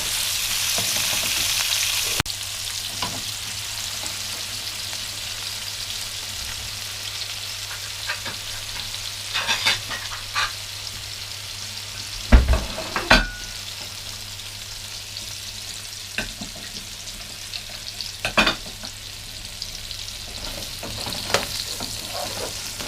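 Sliced chicken browns in oil in a pan, a steady close frying hiss running throughout with scattered knocks and scrapes of a stirring utensil, one louder thump partway through; no voices.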